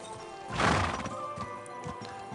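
A horse neighs loudly up close in the video game Kingdom Come: Deliverance II, followed by a few soft hoof clops against a steady game-like ambient hum.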